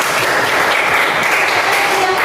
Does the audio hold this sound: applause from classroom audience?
yes